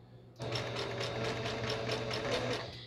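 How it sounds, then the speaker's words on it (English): A sewing machine stitches a four-patch quilt block, starting after a brief quiet moment and then running at a steady, rapid, even rhythm. The whirring is close and continuous, with no talking over it. "I'm going to just go ahead and feed my next block into my machine."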